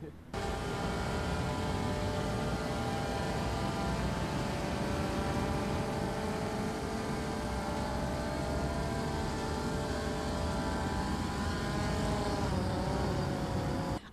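A military reconnaissance drone drones steadily and loudly with a continuous engine or propeller hum that holds without a break, while a voice talks over it.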